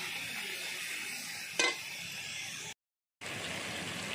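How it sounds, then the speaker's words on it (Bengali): Masala with Kashmiri chilli powder and cumin powder frying in a pan: a steady, close sizzle with one brief scrape of stirring, then a moment of silence before the sizzling resumes. "দিয়ে মশলাটাকে আবারও ভালো করে কষিয়ে নিচ্ছি"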